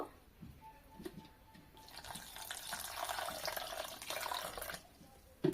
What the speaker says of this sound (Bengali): পানি বদলে 2 থেকে 3 বার খুব ভালোভাবে ধুয়ে নেব